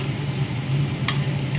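Food being fried and stirred in a pan for a Bengali dish, giving a steady low sizzle with occasional brief scraping sounds, close and continuous with no talking.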